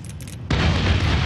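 A frag grenade detonates in Medal of Honor, a sudden loud, close boom at half a second that swells into a sustained, rumbling roar of debris and blast noise, with quieter low battle ambience before it.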